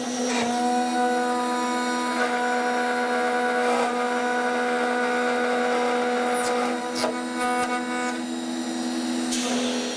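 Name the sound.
air-operated plunge router cutting wood for a guitar body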